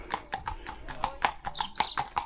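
Horses' hooves clip-clopping in a quick, steady rhythm on a hard country road in Shropshire, close and clear, with faint voices in the background.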